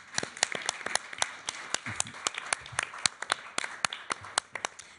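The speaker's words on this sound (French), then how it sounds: "j'ai envie de vous applaudir." At a French round-table discussion on youth, employment and autonomy, a small audience claps sparsely and unevenly, with sharp individual claps standing out over a quiet room at fairly low level.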